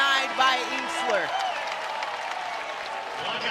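Basketball arena crowd at a women's college game, Louisville against Belmont, breaking into applause and cheers after a defensive block, a broad roar swelling early then settling into sustained clapping while an announcer talks over it.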